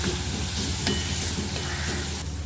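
Onion and roughly cut green chillies frying in a pan for tomato chutney, giving a continuous dense sizzle with occasional stirring clicks, close and without talk.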